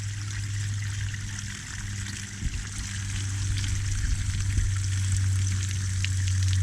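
Flush water pours from an outboard motor onto rock in a steady trickling, sizzling spatter, with a low constant engine hum running beneath and a few louder splashes.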